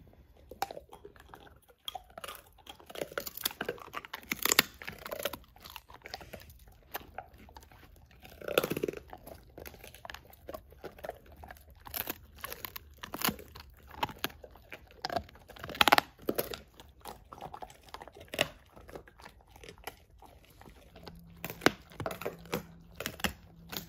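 A German Shepherd crunches and gnaws on a raw natural veal rib, close-up irregular bites and cracking chews going on steadily with brief pauses, fairly quiet.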